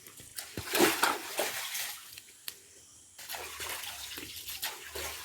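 Water splashes and sloshes as something is rinsed by hand, a few gentle bursts of splashing close up with quieter pauses between.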